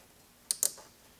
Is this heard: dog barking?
no